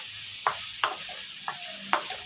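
Finely grated carrot fries in a pan with a continuous sizzle, broken by four brief scraping strokes of a spatula at close range.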